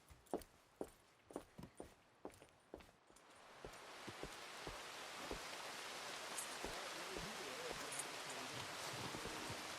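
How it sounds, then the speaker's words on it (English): Rain falls steadily in Red Dead Redemption 2, a broad hiss that builds and settles in after a run of regular horse hoof clops, moderately loud and continuous. "I didn't realize it was still pissing rain"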